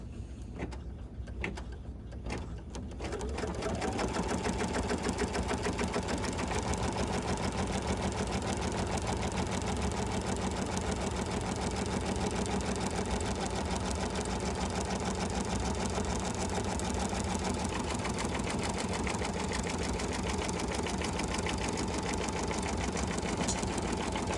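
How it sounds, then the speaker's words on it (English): A sewing machine runs steadily, stitching to tack down backing on a top loader notebook cover, a continuous close mechanical whir after a few seconds of lighter start-up sounds. "we're gonna run the next step to tack down that backing"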